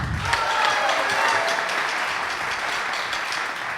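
An audience at a college homecoming jazz concert applauds after a band number, a full wash of clapping that stays steady for a few seconds before easing slightly.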